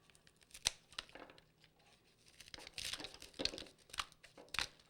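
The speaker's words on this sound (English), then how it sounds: "Then you just cut all the extra stems." Scissors snip the extra stems off a flower bouquet, several separate crisp cuts mixed with crinkly rustling of wrapping or leaves, close and fairly quiet.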